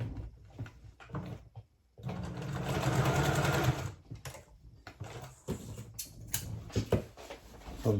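A sewing machine stitches plaid fabric for men's pants, running in one steady, fairly loud burst of a couple of seconds, with lighter handling and shuffling sounds before and after.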